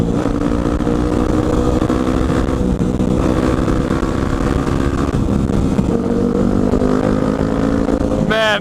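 A motorcycle fitted with a new loud aftermarket exhaust roars steadily while riding, a dense, continuous engine drone with slight pitch shifts and strong wind noise throughout.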